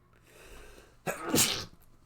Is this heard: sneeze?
yes